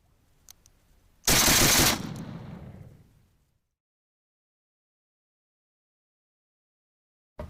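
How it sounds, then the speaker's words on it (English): A DPM light machine gun, set up for an RP46 conversion, fires the last rounds left in its drum: one short, loud, dense burst of about 0.7 seconds that rings and fades over the next second and a half, then silence. "We are now ready to fire however many rounds are left in this particular drum."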